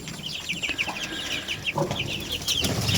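Young chickens chirp and cluck in quick, high-pitched bursts close by, with faint scratching and pecking sounds underneath.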